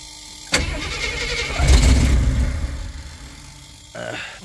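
A Jeep J10 that has sat for nearly two years cranks over with a rough, sputtering churn that swells as if about to catch, then drops off before a brief second crank begins.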